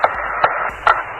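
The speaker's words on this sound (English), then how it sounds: "That is Alan Bean hammering a core tube during Apollo 12" An Apollo 12 astronaut hammering a core tube into the lunar surface, three sharp metallic strikes spaced about half a second apart over a hiss of radio static.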